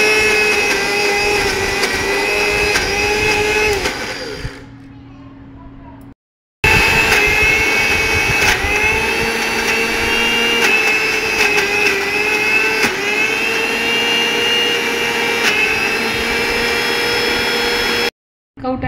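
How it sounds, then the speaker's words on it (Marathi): A kitchen mixer grinder whirs loudly and steadily while blending wood apple for chutney, pausing briefly midway before running on again at full power. "चटणी करता आपण हे कवठ मिक्सरमध्ये घालून घेणार आहोत।"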